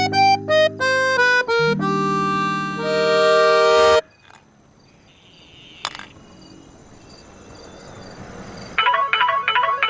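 A mobile phone plays a melodic ringtone loudly for about four seconds and then stops abruptly. A faint chirp and quiet room tone follow, and bright melodic tones return near the end.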